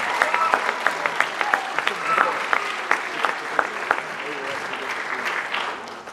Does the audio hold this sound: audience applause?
yes